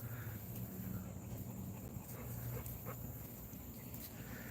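Dogs in a cage at a kennel breeding Americane da Presa, faint whimpering and restless noises under a constant hum of background noise, distant rather than close.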